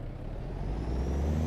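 Steady low truck engine drone from American Truck Simulator with a sound mod, rising slightly near the end, with a faint hiss above; no distinct gear shift clunk stands out.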